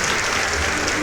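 Applause from guests at a birthday party right after the candles are blown out, a steady dense clatter of many hands sustained evenly throughout.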